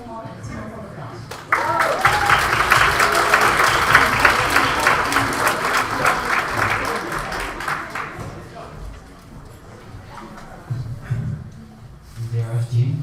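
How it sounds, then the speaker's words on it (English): Delegates and guests at a Model United Nations closing ceremony in Ommen break into loud applause that swells, holds, then thins out, with a voice coming in near the end. "Please give a round of applause for Monique Tempelman and Timo van der Plas."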